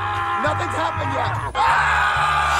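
In a comedy puppet movie scene set on an amusement park ride, several riders give wavering, drawn-out screams and yells over a steady rumble of the ride, loud and close, broken by a short pause before the cries resume.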